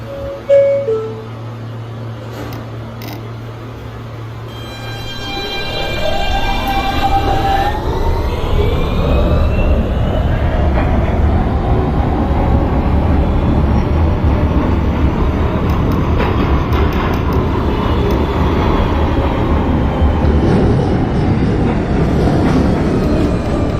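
A New York City Subway R160 F train in the OpenBVE simulator pulls away with a rising electric motor whine that climbs and holds, over steady rolling rumble, after a short stretch of chiming tones at the start.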